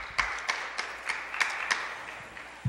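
Scattered handclaps from an audience at a Montreal city council meeting, a few sharp claps spread irregularly over a couple of seconds, thin and somewhat distant rather than a full ovation.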